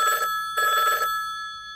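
A telephone bell rings in two bright, trilling bursts separated by a short pause, clear and close with no voices over it.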